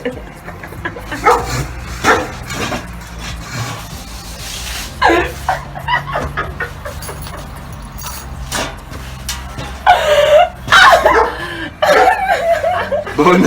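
A dog barks in a few short bursts amid a lively room where people chatter and laugh, the barks near and mixed in with the voices and chuckles.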